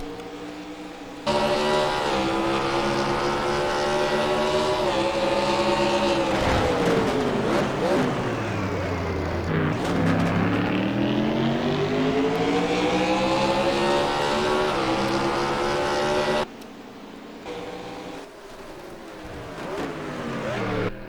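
Race car engine heard from onboard in the GP3R racing game at the Trois-Rivières circuit, a loud continuous whine whose pitch climbs, drops through braking and climbs again, then cuts off abruptly near the end.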